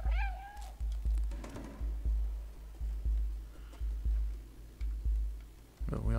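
A cat in the video game Stray meows a few times near the start, clear and close, over a steady thumping rhythm of game sound; a faint voice-like sound appears briefly.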